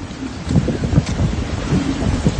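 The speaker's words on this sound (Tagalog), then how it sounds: "Sobrang mahangin guys." Strong wind roars across open rice fields in Taiwan, buffeting the microphone in loud, continuous gusts with low rumbling swells and no voices.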